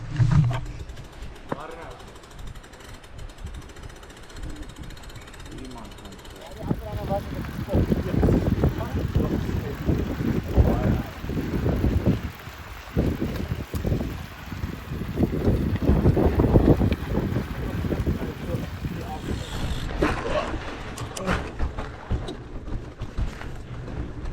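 Strong wind buffets the microphone outdoors during the Munga 2024 endurance race: a steady, close, low roar that surges in gusts, with voices speaking under it.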